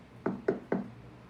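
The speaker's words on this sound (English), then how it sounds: "she heard the knock on the door" Three evenly spaced knocks on a door, crisp and close, from the Arthur's Puppet Theater video game, with nothing else heard.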